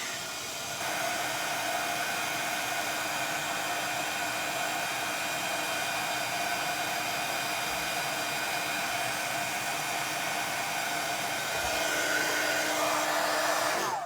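A craft heat tool blows steadily over gold embossing powder, melting it. It makes a loud, even, hair-dryer-like whoosh that starts after a brief moment, runs without pause, and swells slightly toward the end.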